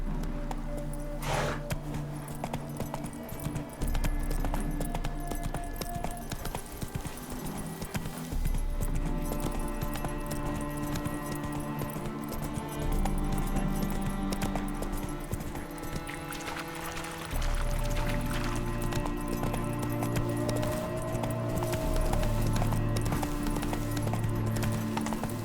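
Roach, a horse in The Witcher 3 video game, clip-clops in steady hoofbeats beneath a continuous orchestral score for the full stretch, the footfalls moderately loud and close with no talk.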